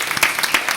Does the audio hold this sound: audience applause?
yes